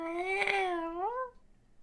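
A person's voice imitates a cat's meow, a single drawn-out nasal 'mrrow' that rises and falls over about a second, voicing Catwoman's pet cat during a comic book discussion, close and clear.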